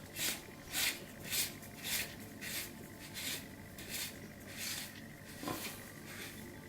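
A part is screwed tightly onto a finder scope being converted to night vision with a P8514KV Gen 3 tube, producing faint, close, rhythmic rubbing and thread-turning strokes, about ten in a row.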